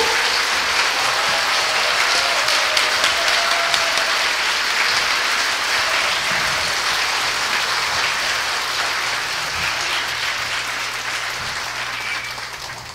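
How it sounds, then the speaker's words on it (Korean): An audience at a concert in Gwangju claps in sustained applause to welcome a bishop, dense and steady for the whole stretch before slowly tapering off. "큰 박수로 좀"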